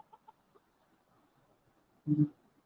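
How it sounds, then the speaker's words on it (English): A rooster in a backyard coop gives a short burst of loud clucking after a few faint, soft clucks in an otherwise quiet setting. "He's not a morning rooster."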